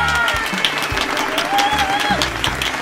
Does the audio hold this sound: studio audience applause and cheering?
yes